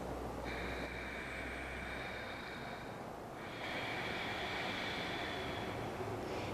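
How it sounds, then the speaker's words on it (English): Ujjayi yoga breath drawn through the nose with the back of the throat constricted, giving a soft, ocean-like rushing hiss on two long breaths, one in and one out, close and quiet with no talk. "So the Ujjayi breath is a nostril breath"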